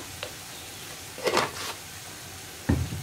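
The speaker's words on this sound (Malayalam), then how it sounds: "ഈ പൊടികളെല്ലാം കുക്കായി വരാനായിട്ട് 1 മിനിറ്റ് ഒന്ന് ലോ ഫ്ലെയിമിൽ വെച്ചിട്ട് ഇളക്കി കൊടുക്കാം" Spice powders with Kashmiri chili powder stirred over a low flame in a pan for an aubergine curry, giving a soft sizzle and a few brief scrapes and knocks of the spoon.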